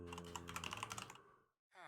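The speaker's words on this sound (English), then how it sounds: "With random clicking noises." Rapid computer keyboard typing clatters in a quick irregular run of clicks, close and moderately loud, stopping abruptly before a brief silence and the start of a voice.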